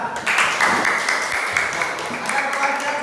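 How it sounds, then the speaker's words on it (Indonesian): Brief, moderately loud applause fills a classroom as students clap together for a classmate named Fikar, a steady patter of hands lasting a few seconds amid room noise. "Tepuk tangan buat Fikar"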